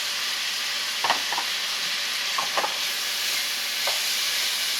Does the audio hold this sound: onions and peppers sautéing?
yes